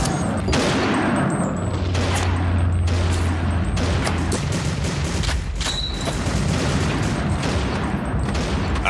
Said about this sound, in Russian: Ложись, граната!